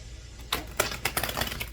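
A quick run of crisp, snappy flicks and riffles as tarot cards are shuffled close by, several sharp clicks in uneven bursts.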